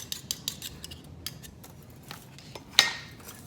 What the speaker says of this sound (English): Now I'm going to whisk this